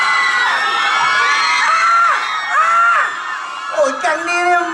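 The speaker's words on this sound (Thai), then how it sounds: "ขอเสียงกรี๊ดให้นิวจิ๋วหน่อยครับผม" A Thai TV studio audience of young voices shrieks and cheers loudly, with whoops rising and falling over several seconds.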